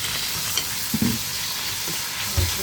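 Pork pieces fry in oil in a pan with a steady loud sizzle and crackle, broken by a few soft stirring scrapes and knocks, no voices.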